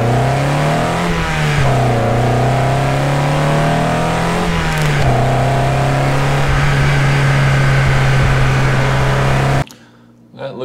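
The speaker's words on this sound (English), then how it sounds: "If you like the exhaust sound better, you can kind of raise that up louder than the engine" A car engine and exhaust revving steadily and loudly, pitch rising and falling in a few swells before holding at a constant drone, then cutting off abruptly near the end.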